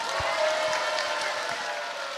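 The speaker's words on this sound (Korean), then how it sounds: "박수하겠습니다." A crowd applauds at a Korean talk-broadcast gathering. Clapping is dense and continuous at moderate loudness, with crowd murmur and a few lower thumps mixed in.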